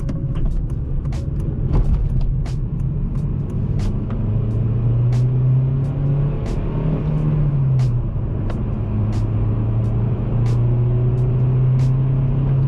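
A car pulls away on a test drive after a shifter base bushing install, its engine droning and rising in pitch through a couple of gear changes, with steady road rumble and occasional clicks inside the cabin.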